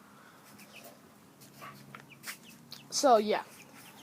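Young chickens raised from chicks cluck softly a few times close by, with one louder burst of clucking partway through, and a person speaks briefly.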